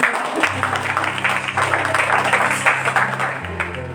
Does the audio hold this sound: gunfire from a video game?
no